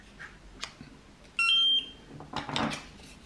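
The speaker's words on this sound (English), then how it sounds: "Everything is beeping." A single sharp electronic beep from a FOBO Tire 2 tyre pressure monitoring unit sounds, loud and steady for a moment, amid quiet handling noises.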